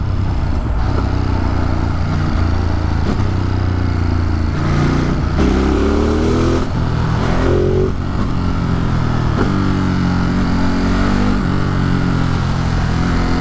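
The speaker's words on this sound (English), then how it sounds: "Yo, why this bike so quick?" A motorcycle ridden fast, its engine droning loud and close with rising and falling revs and wind rush throughout, no talk.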